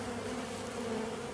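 Honeybees hum steadily inside an open hive, a dense, continuous buzz of many insects close by, fairly quiet and unbroken.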